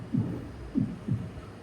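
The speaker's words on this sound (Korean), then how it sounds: "오로지 내 심장 소리만 들릴 뿐이었다." Heartbeat sound effect played during a live reading event, three deep low thumps in a slow lub-dub rhythm, close and distinct over a quiet hum.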